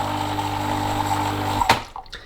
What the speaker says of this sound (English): after a few seconds water starts coming out